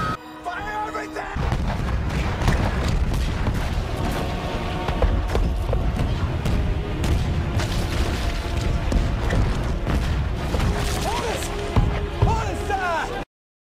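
Artillery guns firing in a loud, dense barrage of heavy booms and blasts that overlap continuously, with voices shouting over the noise.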